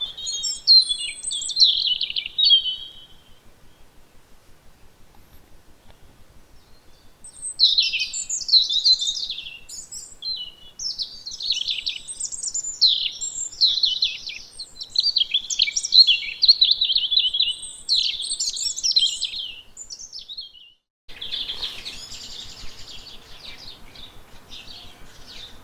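A male common blackbird sings bright, fluting phrases in repeated bursts, separated by pauses, against a quiet background.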